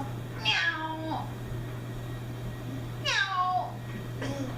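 A young child imitates a cat's meow: two drawn-out, wavering, whiny meows about three seconds apart, then a brief third call, set against a low steady hum in a home kitchen.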